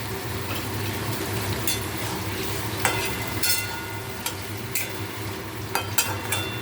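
Ridge gourd and beans fry in a pan for a snakehead fish curry, making a soft, low sizzle broken by scattered scraping clicks as a spoon stirs them.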